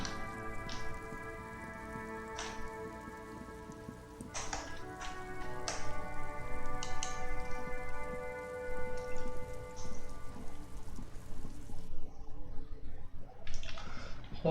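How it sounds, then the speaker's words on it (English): Steady rain falls in the detective game Disco Elysium, a soft, dense patter under a sustained musical tone, with occasional drip-like taps throughout. "Rain falls down on the world."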